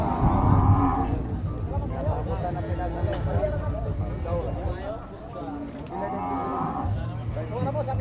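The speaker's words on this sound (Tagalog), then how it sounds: "Babaeng kalabaw, babaeng kalabaw." A pregnant female water buffalo at a livestock sale lows deeply twice, near and loud, once at the start and again toward the end, while people talk throughout.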